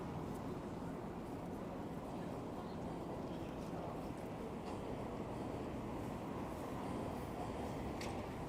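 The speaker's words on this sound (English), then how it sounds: "hear the rumble of a subway train underneath." A subway train rumbles underneath a Toronto street on a busy evening, a low, steady, faint roar beneath the general city background, with no clear talk.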